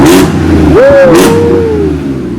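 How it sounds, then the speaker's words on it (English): An Audi S5 engine revs up in short bursts, loud and close, with shouts and cheering from people nearby. "Rev it up."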